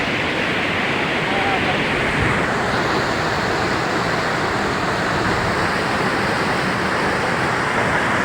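Steady, loud broadband rush of a village river's flowing water filling the whole clip, continuous and close, with no breaks.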